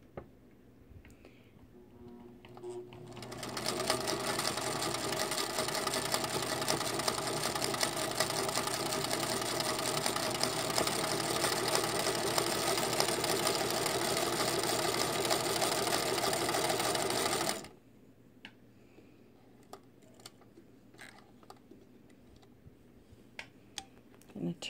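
A Singer Featherweight 221 sewing machine in excellent condition runs steadily for about fourteen seconds, a loud continuous whir with a fine rapid needle rhythm, starting and stopping abruptly, with quieter handling sounds before and after.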